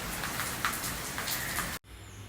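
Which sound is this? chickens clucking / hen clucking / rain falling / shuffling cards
rain falling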